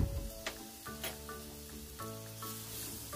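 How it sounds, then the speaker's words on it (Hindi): Garlic-ginger paste fries in a pan with a steady, close sizzle, stirring scrapes and clinks over it, and no talking. "इसे 1-2 मिनट तक फ्राई करेंगे"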